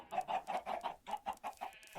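Chickens cluck in the video game Minecraft, a steady run of short, close clucks in a quick repeating rhythm with no talk over them.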